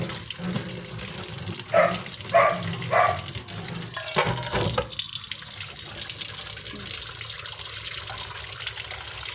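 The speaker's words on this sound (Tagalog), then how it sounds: "magsalog na lang ng tubig." Water runs from a tap into a sink in a kitchen, a steady rushing stream broken by a few short splashing bursts where something is rinsed, close and fairly loud with no talking.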